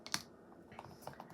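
Short burst of computer keyboard typing as a potion note is logged, a quick cluster of keystrokes followed by a few sparse, soft clicks in a quiet room.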